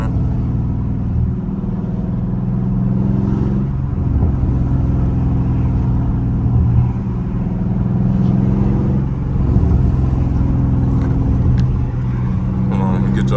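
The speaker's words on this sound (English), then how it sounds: "y'all can hear them pops" A catless Dodge Scat Pack engine drones loud and close from inside the car while driving, a deep steady exhaust rumble with faint irregular crackles, and someone talks over it.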